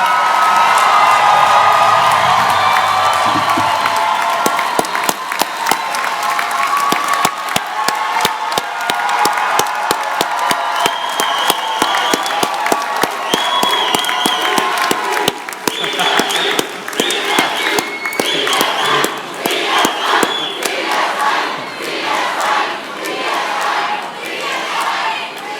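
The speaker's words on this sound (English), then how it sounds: "And a big round of applause for all of our graduates." A large crowd at a spring college convocation for social and community services graduates applauds and cheers, with whoops and shouts over sustained loud clapping that keeps going for the whole stretch.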